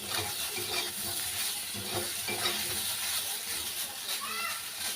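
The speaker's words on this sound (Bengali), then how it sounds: "সয়াবিনটাকে দিয়ে এরকম একটু ভেজে ভেজে নিই" Soybean chunks fry and are stirred in a pan, giving a steady sizzle and hiss with scraping stirs throughout, while voices murmur faintly in the background.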